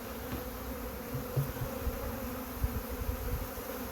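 Continuous buzzing of many bees close by at a hive, a steady hum with occasional louder passes and soft bumps, no talking.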